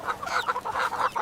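Chickens clucking steadily and close by, a dense run of short overlapping clucks with no talk.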